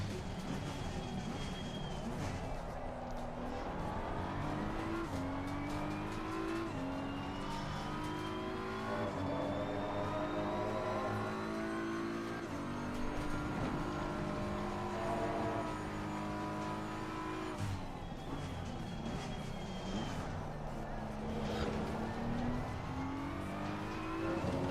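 A car driven hard through S-curves in a racing game, its engine revving up and down in rising and falling sweeps as it shifts gears through the bends, with occasional tire squeal and a steady loud presence throughout.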